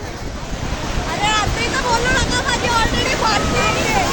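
Sea waves surging and washing in at Juhu beach in Mumbai, a steady roar of surf with wind buffeting the microphone and distant crowd chatter and gulls faintly mixed in.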